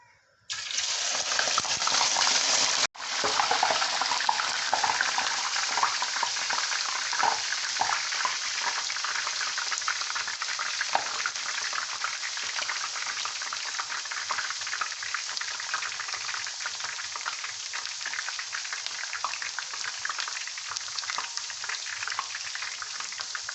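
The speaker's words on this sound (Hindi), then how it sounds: "इसमें चिप्स डाल रही हूँ।" Thin-cut homemade potato chips, squeezed of water, drop into hot oil in a kadai and erupt into a loud, crackling sizzle that surges sharply once more, then settles into a steady, bubbling fry.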